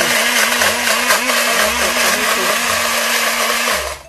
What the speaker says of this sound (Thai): ปั่นไปเลยค่ะปั่นไปเลยค่ะ